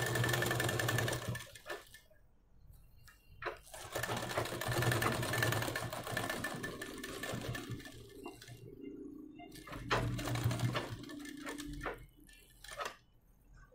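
Sewing machine stitching a blouse, bursts of steady mechanical whirring running a few seconds each and separated by short quiet pauses, close and moderately quiet.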